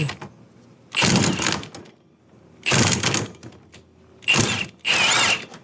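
A ratchet with a socket works on the variator of a Honda PCX150 scooter, giving four bursts of rapid clicking close up with quiet pauses between them.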